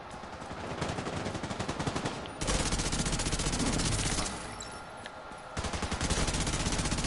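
Automatic gunfire in The Division 2, aimed at enemy heads, comes as rapid, loud bursts of repeated shots, several sustained strings broken by brief pauses.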